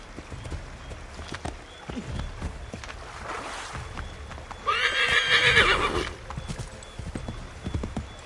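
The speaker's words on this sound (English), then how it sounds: "Get back on the horse, Connor." In Assassin's Creed III, a horse's hooves clip-clop in a steady walking rhythm, and a loud whinnying neigh breaks out midway. The hoofbeats are close and moderately loud, and there is no speech.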